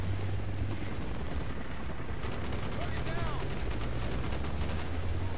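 Rapid gunfire from the Call of Duty Black Ops single-player mission The Defector, loud, sustained bursts of shots crackling over a dense battlefield din.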